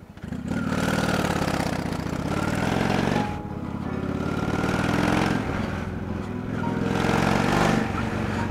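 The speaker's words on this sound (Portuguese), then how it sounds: "é o ronco dessa moto. Cara, é um ronco sensacional." A Honda Shadow 600 motorcycle engine rumbles loudly and close by, a deep throbbing idle that rises in revs twice with a short dip between, running on its own without talk.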